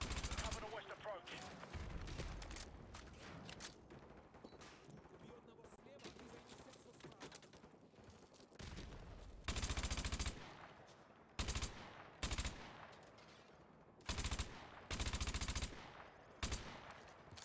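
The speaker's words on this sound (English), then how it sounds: "Dude, I love how the guns sound in this game." Gunfire in the Modern Warfare 2 Remastered campaign, with rapid automatic bursts and heavy shots that grow loud and punchy in the second half, mixed with battlefield noise and voices talking.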